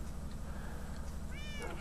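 A cat meows once in the Minecraft video game, a short rising-falling game meow near the end over a steady low background hum, with no talk.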